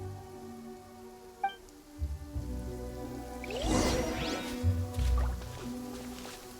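Rain in the video game Genshin Impact, a soft continuous patter of drops beneath swelling game sounds, with a whooshing sweep and a few low thuds partway through.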